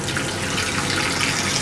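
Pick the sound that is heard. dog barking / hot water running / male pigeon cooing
hot water running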